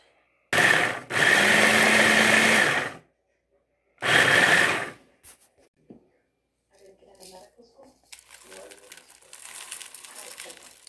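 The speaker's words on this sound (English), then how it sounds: "I'm just gonna throw it through the processor" A food processor grinds rolled oats in two loud whirring bursts, a longer one of about two seconds and a shorter one after a brief pause, followed by quieter kitchen handling noises and some talking.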